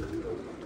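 A low, soft pigeon coo rolls through the short moment, murmuring steadily against faint background noise.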